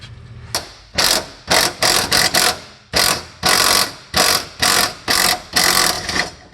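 A hand ratchet cranks on bolts during fuel tank removal from a 1979–2004 Ford Mustang Foxbody, giving loud, close bursts of rapid clicking in about ten evenly spaced strokes.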